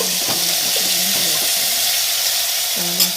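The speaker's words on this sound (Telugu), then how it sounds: "తాలింపులు వేసుకోవాలి." Whole tempering spices sizzling in hot oil in a pan, a steady close hiss of frying throughout with a few faint low stirring or clinking sounds and no talking.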